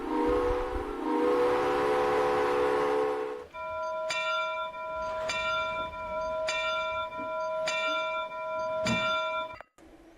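Southern Pacific steam locomotive in Trainz 12 on a mountain line: a long, loud harmonic whistle blast, then a repeated bell clanging at a steady rhythm, about six strikes, close and clear with no talk.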